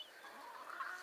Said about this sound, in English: What are you squawking about?